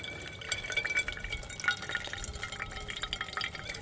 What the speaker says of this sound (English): And then just slowly pour it in.